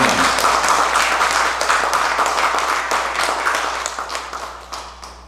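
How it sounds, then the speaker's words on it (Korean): Congregation applause at a church thanksgiving service marking Pastor Moon Seok-ho's 50 years of ministry and book publication, many hands clapping in a full burst that gradually thins and fades out. "다시 한번 격려와 축하의 박수 보내주시기 바랍니다"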